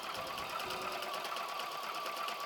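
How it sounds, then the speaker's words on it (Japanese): Sewing machine doing decorative stitching on fabric for a small fabric box, a fast, steady mechanical whir running close and unbroken throughout, with no talking. "これをミシンで飾り縫いします"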